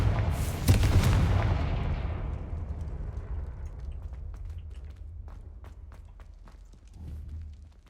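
Fire-spell blasts in the video game Hogwarts Legacy: a loud, sharp explosive burst up front that decays into a long rumbling tail, with a fainter second boom near the end and no talk.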